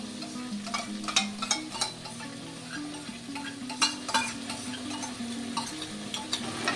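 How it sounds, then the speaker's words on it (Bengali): Homemade sauce fries in a pan with a soft, steady sizzle, broken by frequent light scraping and clinking as it is stirred; quiet and close, with no talking. "একটুখানি ভাজা ভাজা করবো, নয়তো ওই সসের কাঁচা গন্ধটা যাবে না"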